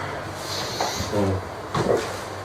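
An indoor door closing, heard as a couple of close, dull thuds and rattles with a muffled sliding, knocking quality against a steady room background.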